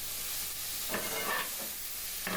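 Vegetables softening in a pan give a quiet, steady hiss, with a few soft scrapes of a utensil against the pan, faint and close, with no talking.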